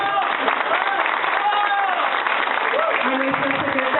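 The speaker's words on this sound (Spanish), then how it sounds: "Un fuerte aplauso" A crowd at a PAN party event in Toluca gives sustained, dense applause for the party secretary, with voices and tonal sounds mixed in over the clapping.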